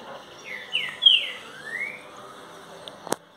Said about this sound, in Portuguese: Trouxe o passarinho pra trocar canto aqui